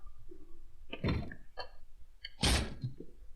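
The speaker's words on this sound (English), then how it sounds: "I'm hearing a door being like kicked in." A wooden door in a survival video game being kicked in, two heavy thudding impacts a second or so apart with a cracking, rattling edge, heard close with faint game ambience.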